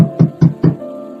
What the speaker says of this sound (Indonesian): Suara pintu yang diketuk.